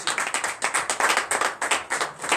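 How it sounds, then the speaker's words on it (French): Rhythmic hand clapping from a church congregation at a Saturday morning prayer service in Benin, giving acclamation to Jesus; the claps fall in a steady, evenly spaced beat, fairly close and continuous, with no one talking over them. "Donnez l'acclamation à Jésus ce matin pour le pardon de nos péchés"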